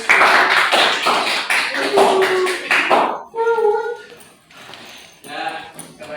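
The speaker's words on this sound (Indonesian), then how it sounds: "Tepuk tangan untuk Mas Agus." A small group claps for a presenter during a lathe-cutting microteaching session, a few seconds of close, uneven hand claps that give way to a nearby voice speaking.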